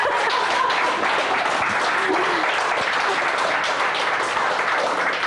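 Steady, dense applause fills a kitchen cooking-show set during a pistachio dessert demonstration, a loud, even wash of many clapping hands that holds without pause.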